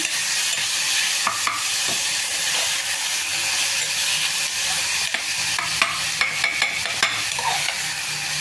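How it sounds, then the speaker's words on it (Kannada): Tomatoes frying in a little oil in a pan, a loud continuous sizzle close by, broken by the scraping clicks of a spoon stirring them. "ಟೊಮೆಟೊ ಫುಲ್ಲು ಫ್ರೈ ಆಗಬೇಕು ಅಂತೇನಿಲ್ಲ ಈಗ ಆಗಿದೆ"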